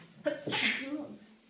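A single sharp sneeze close to the microphone, with a quick inhaled buildup before the burst.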